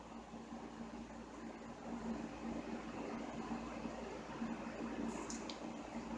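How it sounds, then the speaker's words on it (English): A window air conditioning unit in a home without central AC gives off a faint, steady whir with a low hum, running alone and unbroken throughout. "And if you hear the whirring sound, that's my air conditioning."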